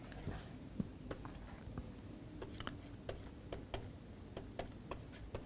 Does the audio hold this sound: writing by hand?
yes